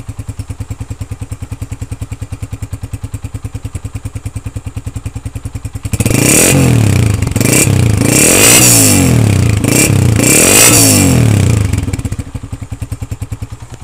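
A restored 2013 Honda CG125 motorcycle idles with a steady rapid putter, then the throttle opens into several loud, roaring revs before dropping back to idle.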